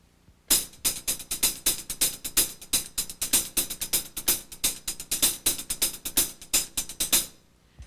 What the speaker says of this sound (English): I'll play it on the hi-hat.